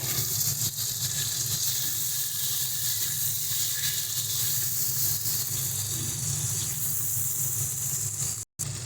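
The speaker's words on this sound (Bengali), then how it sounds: "এবার এই মাছ ভাজার তেলের মধ্যে জিরে পোড়ন দিয়ে দিচ্ছি" Cumin seeds sizzle in hot oil left from frying fish, a steady, loud, broadband hiss that continues without a break, then drops out for a moment near the end.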